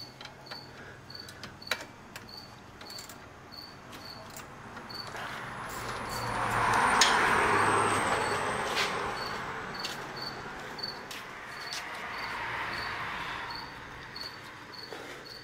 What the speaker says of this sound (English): That cricket in the background.